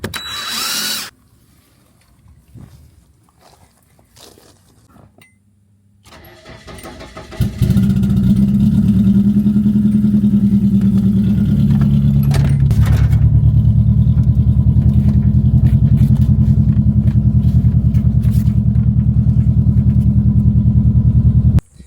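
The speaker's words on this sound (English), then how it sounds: "What a good car. Starts right up every time." After several seconds of near quiet with faint clatter, a Nissan 240 engine cranks, catches right away and settles into a loud, steady rumbling idle that holds to the end.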